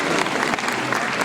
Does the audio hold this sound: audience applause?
yes